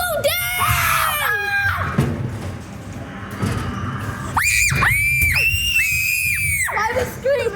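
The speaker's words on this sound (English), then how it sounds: "Why are we screaming?" Riders on a ghost train ride at the Grand Pier in Weston-super-Mare scream in long, high-pitched bursts, mostly children, with rumbling ride noise and thuds between the shrieks.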